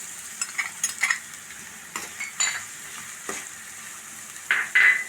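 Onion and green chillies fry in coconut oil in a pan, a soft sizzle broken by several sharp metallic spoon scrapes and clinks against the pan, heard close without speech.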